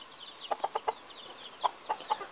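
Young chicks scratching in a backyard give soft clucks and peeps in two short clusters of quick notes, faint and close against a quiet background.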